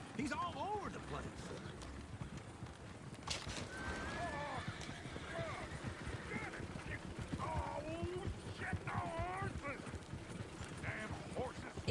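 Horses whinny and neigh several times in Red Dead Redemption 2 near a runaway coach, over rhythmic clip-clopping hooves, with voices talking and a busy background of movement throughout.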